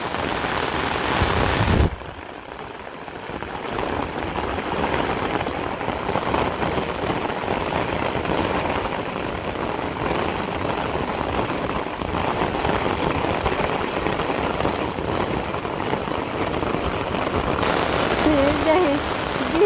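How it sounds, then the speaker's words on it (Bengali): Steady rain pours down outdoors, a dense continuous patter on surfaces that fills the whole stretch at an even, fairly loud level, with faint voices now and then beneath it. "বৃষ্টি নামলে ভালোই লাগে ঠান্ডা লাগে"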